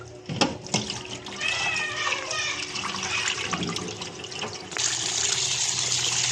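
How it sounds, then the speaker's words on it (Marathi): Water runs steadily with splashing and handling in a sink as fish are washed, a cat meowing briefly early on, and the flow grows louder near the end. "आता ही 4थी वेळ आहे मासे धुवायचं"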